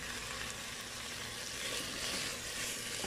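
Onion and garlic sizzle with browned beef in a pot for a beef and vegetable soup, a steady, soft frying hiss with no talking.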